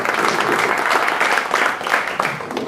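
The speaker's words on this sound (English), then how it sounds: "Let's give them a round of applause" Steady applause from a business conference audience, many hands clapping at once, dense and fairly loud throughout, with no voices standing out.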